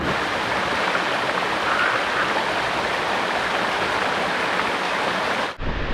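A limestone waterfall in a Trinidad jungle pours in a steady, dense rushing roar, close and constant, before cutting off abruptly near the end.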